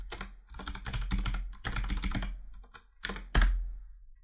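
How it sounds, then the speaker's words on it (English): Password being typed on a computer keyboard during a Windows Server 2012 setup: close, quick bursts of key clicks in several clusters with short pauses, ending in a firmer thunk like an Enter key press. "And then we just type in the password that we put in earlier."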